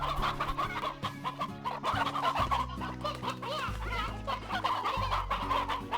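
Hens clucking in the video game Slime Rancher, steady game-style poultry clucks layered over a continuous looping music bed with no gaps.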